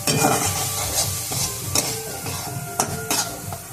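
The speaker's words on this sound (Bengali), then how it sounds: "দিয়ে দিচ্ছি লঙ্কা বাটা, দিয়ে মশলাটাকে কষাতে হবে যতক্ষণ না তেল ছাড়ছে।" Spice paste with turmeric and chili paste is sautéed in oil for a Bengali banana-flower dish, with a close sizzle under brisk stirring and a few sharp scrapes and clinks of a spoon against the pan.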